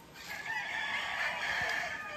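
A fighting rooster at a cockfighting pit in San José Ojo de Agua gives a single drawn-out crow, moderately distant and fairly faint, lasting about two seconds.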